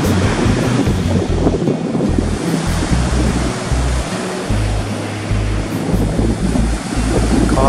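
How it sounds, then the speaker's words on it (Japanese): Ocean swell breaking as waves near the shore at a surf spot, a continuous loud roar of surf with wind buffeting the microphone and low rumbling throughout. "うねりがインサイドブレークになってますね"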